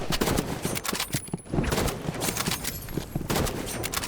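Rapid gunfire in the Rivals video game, dense bursts of automatic shots crackling close and loud, nearly continuous with a brief lull in the middle.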